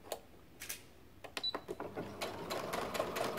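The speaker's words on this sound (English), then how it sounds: "We're just gonna baste right down the side seam of our bodice, the side of our bodice." A domestic sewing machine bastes the side seam of a dress bodice, starting with a few separate stitch bursts and then settling into a steady, close running whir with no talking.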